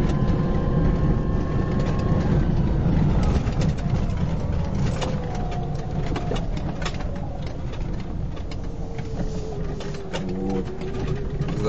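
A modified Niva converted to an electric car drives over a rain-washed cross-country track with climbs and descents. Its motor gives a steady, continuous whine whose pitch slides up and down over a rumbling undercarriage, with no talk.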